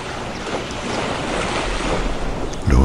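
Ocean surf washing in steadily, a continuous rushing wash of water with some wind noise, rising to a louder surge at the end; no one speaks.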